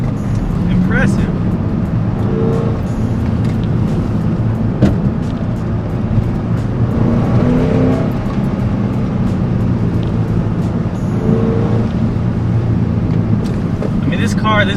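A car drives hard with a steady engine roar and gusts of wind noise buffeting the microphone, while a person talks excitedly over it throughout.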